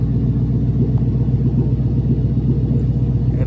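A car engine rumbles low and steady as the car is slowly turned around, a continuous close drone with no voices.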